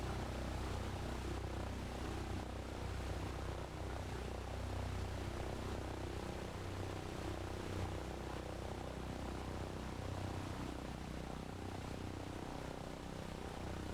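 A propeller aircraft engine in a mountain flight simulator game, idling or taxiing as a steady, dense droning hum with no breaks, moderately loud throughout and with no voices over it.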